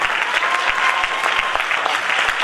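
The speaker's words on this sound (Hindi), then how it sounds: "हिम्मत है तो ताली बजाएंगे।" A church congregation claps together during a Hindi-language sermon, producing dense, steady applause that holds at a constant level throughout without pause.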